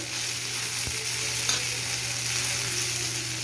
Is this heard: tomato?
yes